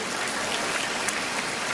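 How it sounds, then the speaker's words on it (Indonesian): A church congregation applauds during a worship service, producing a dense, even hiss of many hands clapping continuously, loud and unbroken, with no voices over it. "sekali lagi tepuk tangan buat Tuhan Yesus"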